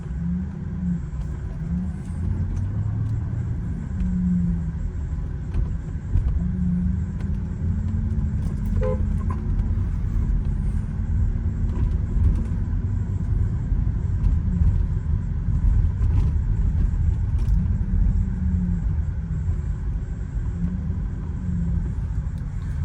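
A 2008 Mercedes SL550 on Neomax coilovers drives along a road, its engine humming low and steady from inside the cabin over constant road rumble, with faint clicks and no talking.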